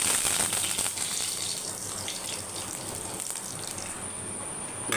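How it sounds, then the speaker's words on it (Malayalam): Curry leaves hit hot oil that already holds mustard seeds, giving a loud rushing sizzle at first that settles into a steady, close hiss. "കറിവേപ്പില ഇടാം."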